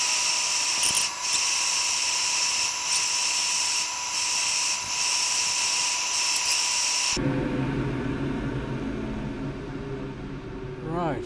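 A Huon Pine tower box is sanded on a spinning wood lathe, producing a steady whirring hum for several seconds that then abruptly changes to a lower, rougher grinding tone.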